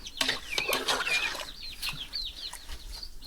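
Two Shirgoli hens brought from Sakharpa cluck and squawk close by, with rapid bursts of calls and some wing flapping early on, then softer intermittent clucks.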